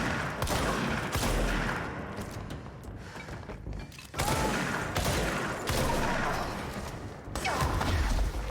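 Heavy sniper gunfire from the Control video game: loud, dense volleys of shots cracking and booming in several sustained bursts with brief lulls between, filling the whole stretch with no talk.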